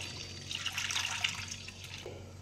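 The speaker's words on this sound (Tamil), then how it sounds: "இந்த வடித்த வெல்லத்தை வந்துட்டு நம்ம ஊற்றிக்கலாம்." Strained jaggery syrup for wheat athirasam is poured close by, a steady liquid trickle and splash lasting a couple of seconds with no talk.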